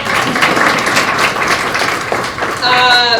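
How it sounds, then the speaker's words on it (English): A crowd at a university campus success center ribbon-cutting ceremony claps for a borough mayor, a fairly loud, continuous burst of many hands, with voices mixed in and a brief high tone near the end. "We'll clap for him anyway."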